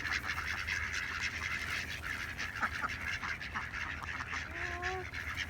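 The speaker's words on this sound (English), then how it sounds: "Look at all these ducks wanting some bread." A flock of ducks at a nature park honks and quacks continuously, fairly loud and close, with a few drawn-out calls near the end.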